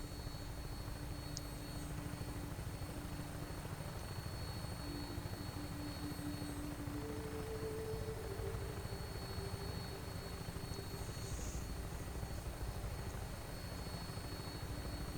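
An aircraft lifting off in the video game Fallout 4, a steady droning engine roar with a low humming tone, constant and moderately loud for the whole stretch without any voices.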